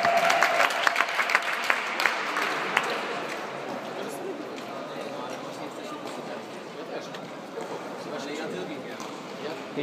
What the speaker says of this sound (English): Please give a round of applause for Jeff Mott.